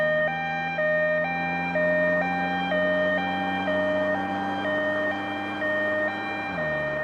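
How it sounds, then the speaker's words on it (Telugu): An ambulance siren wails in a regular two-tone pattern, alternating high and low notes about every half second, steady and fairly loud over a low engine drone, with no voices. "అంబులెన్స్ వస్తుంది."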